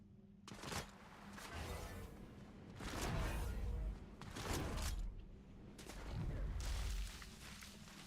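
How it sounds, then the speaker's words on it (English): Distant gunfire in the video game Fortnite, several bursts of shots spread across the clip over a steady game background, with talk over part of it. "that guy's trying to shoot me from way over there"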